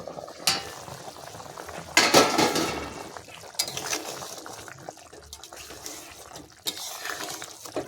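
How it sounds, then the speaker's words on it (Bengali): A plate used as a lid lifted off a pan of prawn curry with figs, followed by bubbling simmering and clinking spoon strokes against the pan, several sharp metallic knocks spread through. "ঢাকা দেওয়ার থালাটা আমি তুলে নেব"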